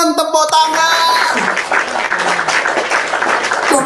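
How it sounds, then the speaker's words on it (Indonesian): Audience applause during a religious debate broadcast, a busy patter of many clapping hands that sets in after a few opening tonal sounds and continues fairly loud and steady to the end. "Tepuk tangan."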